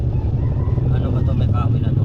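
Motorized tricycles push through deep flood water on a street, their engines rumbling loud and close in a continuous drone, with splashing wash mixed in.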